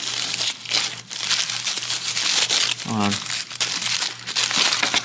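Plastic and paper packaging on a Transformers toy set being opened by hand, close loud crinkling and tearing in repeated bursts, with a short scraping rasp partway through and a person speaking.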